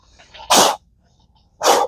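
Two loud, close sneezes about a second apart, each a sharp explosive burst, with quiet breathing and faint rustling in between.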